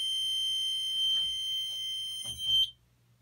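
A home fire alarm panel in alarm during a system test sounds a loud, steady high-pitched electronic tone that holds for under three seconds, with brief low knocks and handling noise underneath, then cuts off abruptly into silence.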